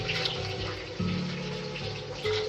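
Water streams steadily into a pot in a kitchen, a continuous soft splashing pour with a brief change in pitch as the level rises, fairly quiet and without speech.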